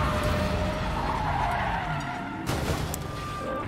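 Car engine roaring with skidding, squealing tires in Resident Evil VII, a continuous loud mechanical drone with a sharp burst of tire noise partway through, close and without talk.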